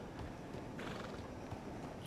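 A video game horse whinnies over a constant background bed, with soft hoof sounds mixed in; a short, moderately faint neigh rising midway.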